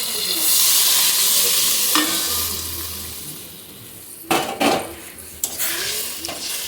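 Water poured into a hot, sizzling pan for a sour chunu fish curry sets off a loud broad hiss that slowly fades, followed by a few sharp utensil knocks and scrapes against the pan.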